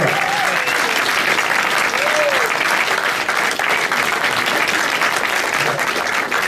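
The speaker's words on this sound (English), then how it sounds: "a round of applause for Brad." A loud, dense round of applause from the audience at a horror short-film masterclass, continuous clapping throughout with a few voices calling out over it.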